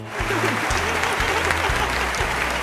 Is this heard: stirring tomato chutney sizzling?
no